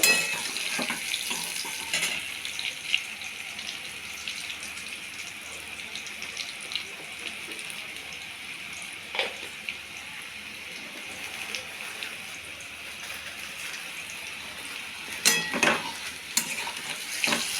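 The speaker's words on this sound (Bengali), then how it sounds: "আলুটাকে লাল লাল করে ভেজে নিলাম" Potatoes frying in oil until reddish, a continuous close sizzle with occasional clinks and scrapes of a stirring utensil against the pan, steady throughout with no voices.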